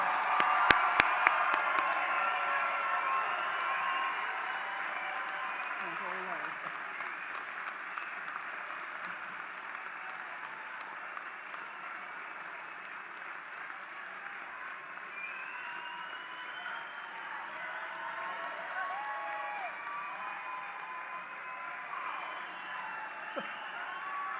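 A commencement crowd applauds and cheers for Doctor of Pharmacy graduates from the Chicago campus, a long, moderately distant ovation with scattered whoops, slowly easing and then swelling again.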